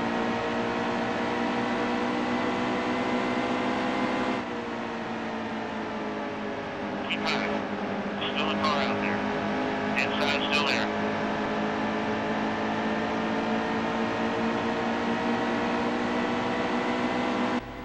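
Race car engines in the NASCAR Heat 2 video game at Pocono drone steadily throughout, a loud sustained multi-engine roar with slight pitch shifts as cars run close together, under brief chirps of other sounds.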